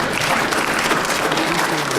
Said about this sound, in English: You weren't supposed to clap for that.